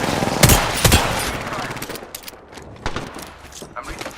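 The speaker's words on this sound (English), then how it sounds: "Getting shot at." Rapid automatic gunfire in the battle royale shooter Apex Legends: two loud, close bursts early on, then sparser, fainter shots trailing off under faint voices.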